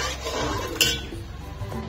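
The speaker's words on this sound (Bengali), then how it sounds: "নুনটা মিশিয়ে নিলাম।" A spoon stirs a tablespoon of salt into water in a pot on the stove, with a steady scraping swirl and one sharp metallic clink against the side, close and fairly quiet.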